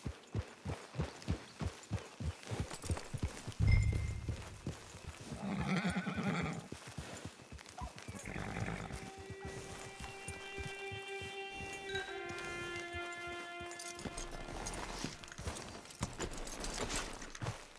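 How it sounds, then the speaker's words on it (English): Horse hooves clip-clop in Red Dead Redemption 2, a steady run of sharp rhythmic beats near and clear through the opening seconds, joined by a whinny, with game music tones sustaining underneath later. "Get your horse."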